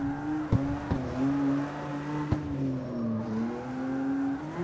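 A car drifts in the CarX Street racing game, a steady engine drone held at high revs that dips and climbs as the slide is held, with a few sharp clicks, moderately loud and alone.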